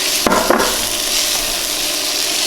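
Bacon sizzles and crackles steadily on an Avalon Bay induction cooktop, a dense continuous frying hiss, with a couple of brief knocking clatters near the start.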